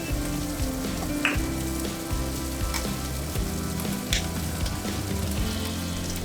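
Diced chicken stir-fried with sugar and sesame in a wok, a steady close sizzle with scraping and tossing noises over a low background hum, no talk.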